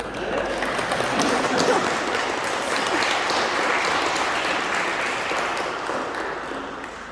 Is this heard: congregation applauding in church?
yes